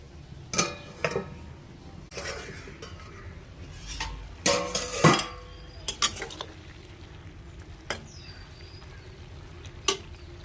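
A cooking pot holding water and salt is covered with its lid, with scattered metallic clanks, scrapes and clinks up close against a low kitchen background.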